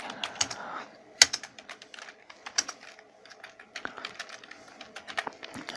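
Someone types text on a computer keyboard, a steady run of close, crisp key clicks in uneven bursts with brief pauses, no talking.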